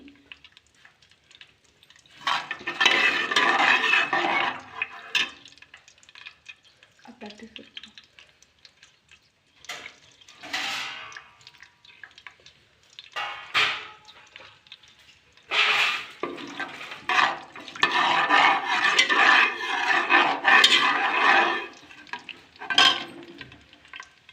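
Chopped onion, green chilli and garlic land in a hot pan while making sprouted-gram upma, giving bursts of sizzling and scraping stirring that come and go in several waves, close and fairly loud.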